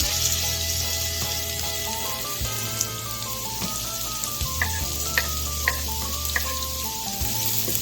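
Onions and garlic frying in a pan for a taco casserole give a steady, close hiss of sizzling with a few soft clicks, heard under continuous background music.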